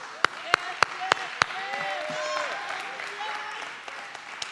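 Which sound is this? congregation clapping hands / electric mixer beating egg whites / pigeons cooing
congregation clapping hands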